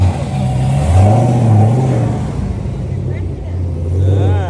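A big turbocharged car revving its engine outdoors, a sustained rising and falling engine roar lasting several seconds with voices talking nearby.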